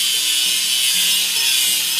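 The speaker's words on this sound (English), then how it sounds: "Let's grind the welding seam." An angle grinder works a welding seam on a dump truck during a crack repair, giving a steady, loud, high-pitched abrasive whine that runs unbroken with slight wavering.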